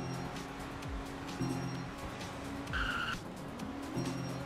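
A car drifting in a Roblox racing game repeatedly skids with tire squeals over a steady engine drone, several short screeching bursts spread across the stretch.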